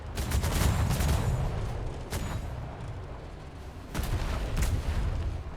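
A ship's cannon volley fired in a naval video game: heavy booming shots overlap into a rolling roar, fade, then a second thunderous burst follows. It sounds loud and close, with no voices.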